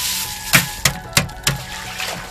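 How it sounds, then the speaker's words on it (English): Harvested rice seeds are poured into water, giving a few sharp splashing clatters spaced about a third of a second apart, followed by softer trickling. "So immediately you pour it into water,"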